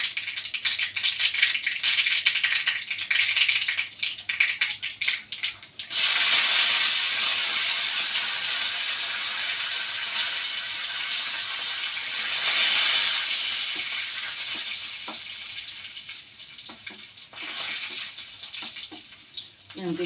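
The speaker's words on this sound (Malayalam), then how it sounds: "കടുക് പൊട്ടി കഴിയുമ്പോൾ ഈ മുളകും കറിവേപ്പിലയും കൂടി ഇട്ട് കൊടുക്കാം." Dried chilies and curry leaves hit hot oil with popped mustard seeds for a Kerala mango pachadi, bursting into a loud, steady sizzle that hisses on continuously, swelling and fading a little, after an earlier lighter crackle.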